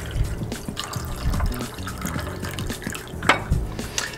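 A mixed whiskey and lemon juice cocktail is poured from one glass into two, with liquid splashing and dripping in short bursts. The sounds are close and fairly quiet, and no one speaks.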